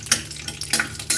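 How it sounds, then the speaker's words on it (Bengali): Nuts frying in hot oil in a wok for a vegetarian pumpkin dish, with close, crackling sizzle and a few bursts of stirring that swell and fade across a short moment. "এরপর আমি প্রথমে বাদামগুলো ভেজে নেব।"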